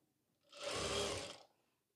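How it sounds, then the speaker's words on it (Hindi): A sewing machine stitches a seam on a ladies' pant, a steady close whirring run of about a second that swells up and fades out, with no talking. "ये देखिए जैसे मैं सिलाई लगा रहा हूँ, सेम आपको ऐसे सिलाई लगा देनी है।"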